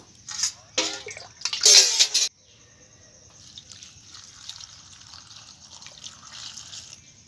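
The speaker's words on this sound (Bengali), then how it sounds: "প্রথমে ভিন্ডিগুলোকে আমি ভালো করে ধুয়ে নেব।" Okra being washed by hand in water in a home kitchen, a few close splashing and sloshing bursts at the start, then a faint trickle and quiet dripping.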